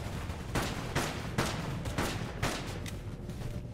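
Gunfire in the battle royale video game Totally Accurate Battlegrounds, a rapid series of about eight sharp shots at irregular intervals, fairly close and loud over a low steady background.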